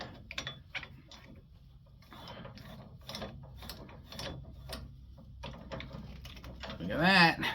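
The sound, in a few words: unscrewing flathead screw from Shopsmith carriage wheel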